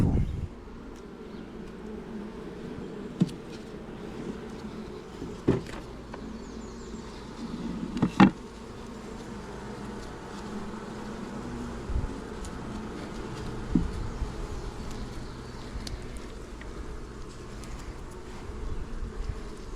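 Honeybees buzzing around open hives during a full inspection outdoors, a faint steady hum with occasional louder passes of single bees near the ear and a few soft knocks of equipment.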